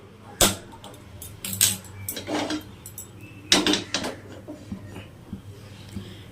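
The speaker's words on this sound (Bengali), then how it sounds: "এই যে বড় একটা কড়াই বসিয়ে দিলাম" A large metal wok is set down on a kitchen stove, giving a few sharp clanks and scrapes with pauses between and softer knocks afterward, close and fairly quiet.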